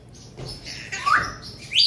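A parrot gives a few bright, sharp chirps and rising squeaks close by, short and irregular, with no talking.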